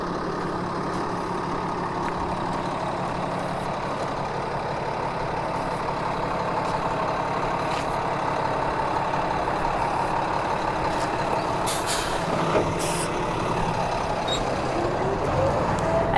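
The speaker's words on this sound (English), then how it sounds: "that is a tractor trailer with some aqua pots in it" A tractor trailer hauling a load of aqua pots idles and creeps along with a constant diesel rumble, then lets out sharp hissing air-brake bursts near the end, heard close by.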